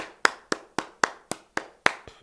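Hands clapping in a slow, even rhythm, eight sharp claps spaced about a quarter second apart, close and fairly quiet in an otherwise silent room.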